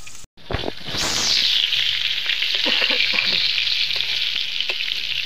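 Pointed gourd fries in hot oil: after a brief thump at the start, a loud, bright sizzle swells and holds steadily, with faint stirring clicks underneath.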